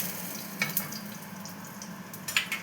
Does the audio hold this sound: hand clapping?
no